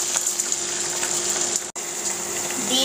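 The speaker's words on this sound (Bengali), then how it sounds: "এখন দিয়ে দিব 1/2 কাপ পরিমাণ পানি।" Water gushes steadily into a cooking pot holding oil and frying onions, a close, continuous pouring rush with a brief break partway through, then more pouring.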